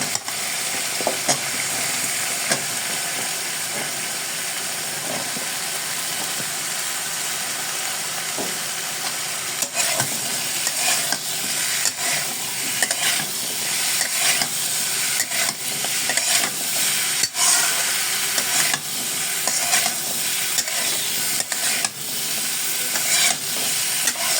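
Vegetable stalks are tossed into sizzling cooked-down spices for a prawn curry with eggplant and potato, a constant close frying hiss broken by irregular scraping strokes of a spatula across the pan.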